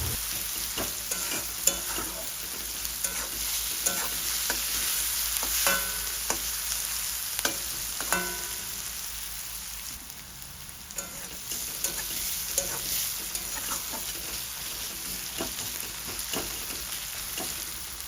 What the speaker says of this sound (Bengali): এবার এটাকে ভালো করে নাড়াচাড়া করে নেব।